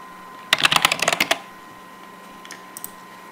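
Rapid burst of about a dozen crisp keystrokes on a computer keyboard as a GitHub username and password are typed on an Ubuntu machine, followed by near-quiet with a couple of faint, isolated key clicks.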